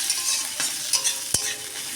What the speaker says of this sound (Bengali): জিরা আর পেঁয়াজটা একটু ভেজে নিচ্ছি।